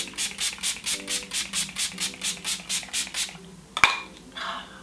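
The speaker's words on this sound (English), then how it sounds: "I'm going to go back in with that Too Faced primer, setting and refresh spray" A rapid series of about a dozen fine spray mists of Too Faced primer, setting and refresh spray onto a face, pumped in a steady rhythm, followed by a sharp click and a faint hiss.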